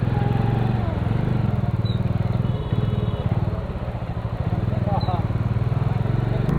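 Motorcycle engine droning steadily while riding on the Kedarnath to Rishikesh route, with a low rumble throughout and a voice talking over it.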